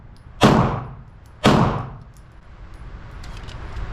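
Two sharp, loud shots from a Beretta 92X or Dan Wesson DWX pistol fired slowly at a target about a second apart, each decaying quickly, followed by quiet background.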